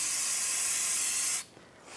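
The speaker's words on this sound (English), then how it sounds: "Spray it down with some brake parts cleaner." Brake parts cleaner sprays from an aerosol can in one continuous, close, hissing blast lasting over a second, then stops, leaving quiet background.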